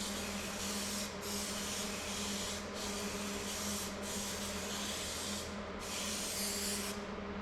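High strength spray hisses from an aerosol can in several long bursts separated by brief pauses, close and loud with a steady hum underneath.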